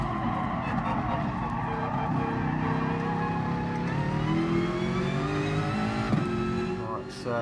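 A race car engine in a racing game, revving hard and climbing through the gears in a steady rising whine with a brief dip near the end, while a driver talks over it.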